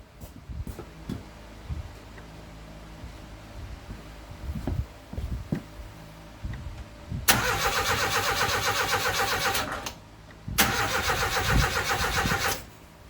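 A 1989 Austin Mini cranks and starts in two loud bursts of rapid whirring turnover, the engine failing to catch into a steady idle, after a stretch of quieter clicks and knocks.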